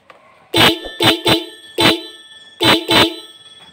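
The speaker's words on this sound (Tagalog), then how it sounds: "lakas ng busina" A dual-tone car horn, newly installed with a relay, honks loudly five times in short bursts, with a brief gap partway through; the blasts ring out clearly.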